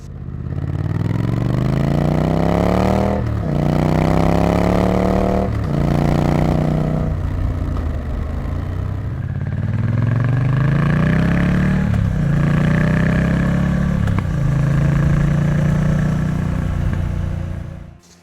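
A motorcycle engine revs up repeatedly, climbing in pitch through several gears, loud and close, with no talking.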